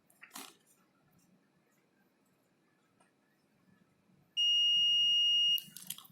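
A multimeter on continuity mode tests a breadboard and gives one clear, high, steady beep lasting about a second, near and loud against a quiet background with faint handling taps.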